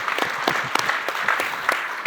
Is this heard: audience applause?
yes